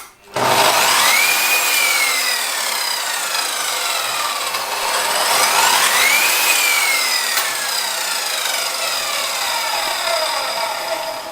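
An Evolution RAGE S-300 radial saw motor spins up after a click and runs at a loud steady whine, with rising and falling tonal sweeps as it holds speed.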